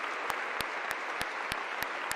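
Applause from a crowd at a public meeting on gun bans, with a soft continuous patter of many hands and one close clapper striking in a slow, regular rhythm on top.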